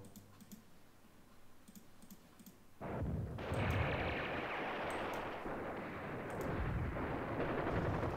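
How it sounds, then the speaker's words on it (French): Artillery barrage in the WWII strategy game Command Ops 2, set around Caen on 6 June 1944: a sudden loud onset of dense, continuous rumbling bombardment that swells and persists after a quieter stretch of faint clicking. "Mon artillerie envoie une sauce."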